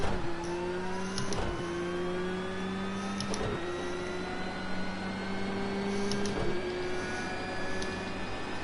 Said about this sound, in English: spun it and hit the wall